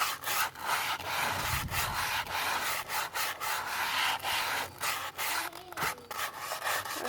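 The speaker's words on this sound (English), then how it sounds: "Doing a light sand." Light hand sanding along the softened edges and corners of a wooden dresser, a steady close scratchy rubbing in continuous strokes with brief pauses between passes, no voices.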